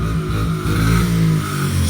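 An engine revs loudly and close by in a snowy outdoor setting, a thick droning roar that swells briefly and holds, with no voices.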